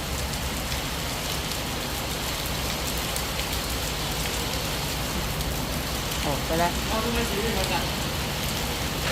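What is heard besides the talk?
rain falling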